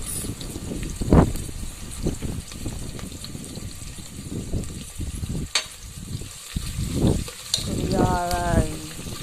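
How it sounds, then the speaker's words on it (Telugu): Onions and curry leaves fry in a pan for a cluster bean curry, a soft steady sizzle with occasional stirring knocks, while a person speaks over it. "ఆనియన్ వేగాయి కరేపాకు వేసుకున్నాను"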